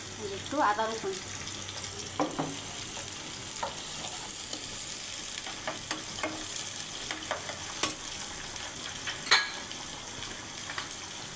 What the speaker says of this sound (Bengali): ভেজে নেওয়ার পর বেশি লাল লাল করে ভাজার দরকার নেই, সামান্য ভাজলেই হবে